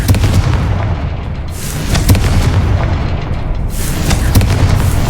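A fiery Confringo spell bursts in Hogwarts Legacy, giving a loud booming explosion followed by rumbling blasts and a second heavy burst, with no talk over it.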